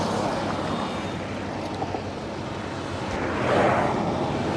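Engine of a 2008 Bajaj Pulsar motorcycle running steadily while being ridden, a continuous broadband drone with wind noise that swells slightly louder toward the end, no talk.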